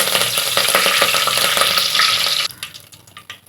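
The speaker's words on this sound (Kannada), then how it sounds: "ಸೊ ಕರಿಬೇವಿನ ಸೊಪ್ಪನ್ನ ಹಾಕೋತಾ ಇದ್ದೀನಿ." Curry leaves hit hot oil already holding mustard and cumin seeds, giving a loud crackling sizzle that runs steadily, then drops sharply and quiets into scattered pops and spatters.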